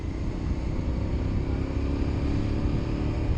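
A motorcycle engine drones loudly and steadily on a town street, a dense rumble with no voices.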